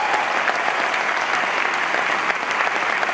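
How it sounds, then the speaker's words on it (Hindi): Loud, dense applause from an audience at an Amway diamond success celebration, steady and close throughout with no gaps. "उसके लिए जोरदार ताली बजा सकते हैं।"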